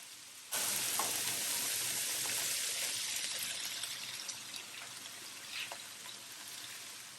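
Chicken fajita strips fry in a hot pan with a steady, bright sizzle that starts suddenly and holds, broken by a few crackles and pops; no voices.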